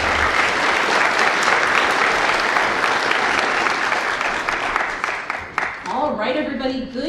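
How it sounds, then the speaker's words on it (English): Sustained, dense audience applause fills a speech-team night event as a forensics co-director is welcomed to the stage, loud and steady before thinning out near the end as a voice begins speaking over the fading claps. "Give a huge round of applause, co-director of forensics"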